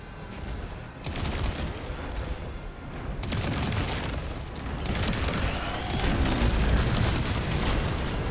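Enemy rockets and gunfire in a sci-fi shooter game: a sustained barrage of rapid blasts and booming explosions, dense and continuous, building slightly louder toward the end, with no talking over it.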